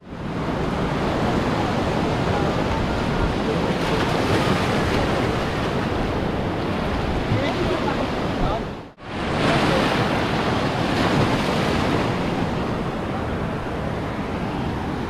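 Sea waves on Digha beach surge in a continuous loud roar mixed with wind buffeting the microphone, with one brief dip partway through before the rush resumes.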